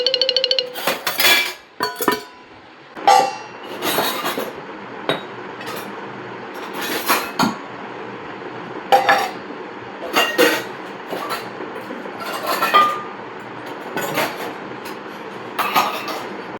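Pots, plates and utensils being washed by hand, sharp metallic clanks and clinks in irregular bursts close by, separated by quieter running-water and rinsing sounds, no talk.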